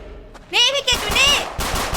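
Bursts of gunfire from shooting enemies in the Roblox survival game 7 Days To Live, rapid repeated shots starting about halfway through, mixed with excited voices talking over the action.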